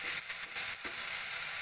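Green chillies and onions frying in a pan for gondhoraj chicken, a brief, fairly quiet steady hiss of oil with a faint scrape partway through.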